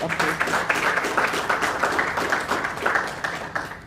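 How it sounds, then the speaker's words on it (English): A crowd claps steadily, dense applause continuing for several seconds at moderate volume. "Can we give him a round of applause?"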